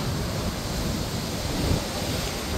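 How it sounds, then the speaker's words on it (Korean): Strong coastal gusts buffet the microphone near a waterfall on an island shore, a steady loud roar of low rumbling wind noise that swells slightly midway, with no speech. "오 바람이 엄청 셉니다"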